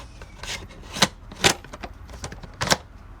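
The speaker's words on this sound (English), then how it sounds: "setting it to 1 for the maximum fineness" Dry clicks and ratcheting scrapes come from the grind-setting dial being turned on a KitchenAid burr coffee grinder, black matte model KCG8433BM. Four or five distinct clicks sit among softer rubbing, close and clear, with no talk.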